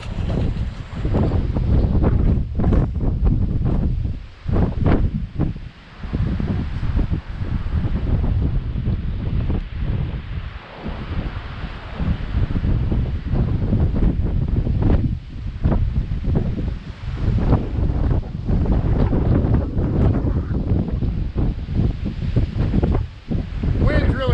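Strong coastal wind battering a GoPro held out on a telescoping stick, loud gusty rumbling microphone buffeting that surges and dips in waves, with faint surf underneath.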